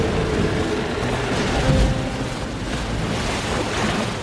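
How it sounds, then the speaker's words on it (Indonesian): Stormy night at sea with a sailing boat tossed by wind and waves: a continuous roar of wind and surf with rushing gusts that swell slightly midway, no voices. "malam itu hujan badai sehingga layarnya pun tertiup oleh angin dan ombak yang berdatangan membuatnya terombang-ambing"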